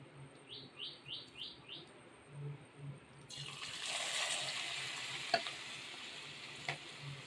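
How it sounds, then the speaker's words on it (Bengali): Pakoras dropped into plenty of hot oil in a wok start a loud, bubbling frying hiss partway through, after a quiet stretch with faint bird chirps in the background, and nobody speaks. "এখন আমি এই পকোড়াগুলি দিয়ে দিচ্ছি"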